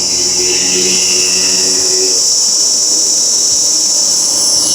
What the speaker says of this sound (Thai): แล้วเราก็รอให้รอบมันหมุนนะครับ รอให้รอบมันได้นะครับ แล้วเราก็ค่อยๆยกคันเร่งขึ้นมา